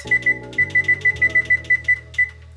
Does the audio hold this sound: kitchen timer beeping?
yes